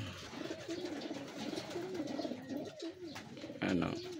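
Racing pigeons coo in soft, repeated rolling phrases close by during training, with a brief louder rustle near the end.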